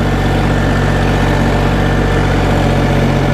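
A tractor engine pulling a plough through a field in second gear, a steady loud low drone with a constant rumbling hum and no pauses.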